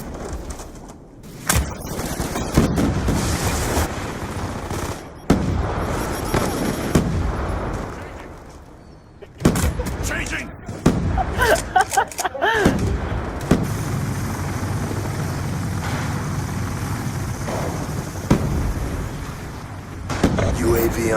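War Machine grenade launcher fire in Black Ops 2 multiplayer, with loud, abrupt blasts and bursts of gunfire breaking up stretches of quieter battle noise, plus scattered voices.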